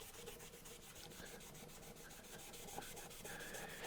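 Rapid rhythmic hand sanding of a wooden semi-hollow bass guitar body edge, quick back-and-forth strokes repeating steadily and close up.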